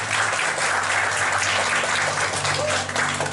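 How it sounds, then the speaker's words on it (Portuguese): Steady, dense applause from a crowd at a ceremony honouring ancestors, filling the whole moment at close range with a faint low hum beneath. "Agora uma salva de palmas para os nossos antepassados"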